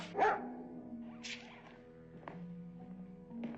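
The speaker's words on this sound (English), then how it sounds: "Longstreet, make your dog behave or I'll put a bullet in him" A dog barks a few short, sharp times, spaced about a second apart, against a steady low background hum with no talking.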